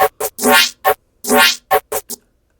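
A synth patch built in Serum and run through Fruity Granulizer, heard alone as a series of choppy, buzzy bursts with sweeping pitch, two longer wobbling swells among short stabs, then silence.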